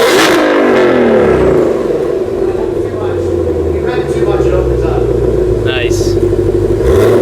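A 2020 Shelby GT500 engine revs loudly up close, its rising and falling exhaust roar filling the scene while people talk over it.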